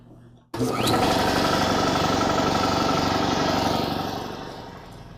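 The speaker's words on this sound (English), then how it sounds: "So I'll just turn on the compressor and let it run for a few minutes to warm the oil" An air compressor starts abruptly and runs steadily, loud and close, a dense mechanical drone that holds for several seconds before easing slightly, running to warm its oil.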